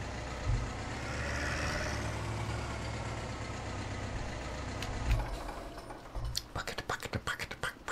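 A tractor engine idles in Farming Simulator 17 during a rainy spell, a low continuous rumble throughout, with faint speech-like murmuring and a run of sharp clicks near the end.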